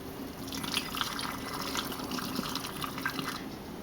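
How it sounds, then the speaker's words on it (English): Homemade cough syrup is poured into a small bottle, producing a soft, continuous liquid trickle and dribbling with light splashy accents, close and fairly quiet, with no talking. "We're going to pour it on into the bottle."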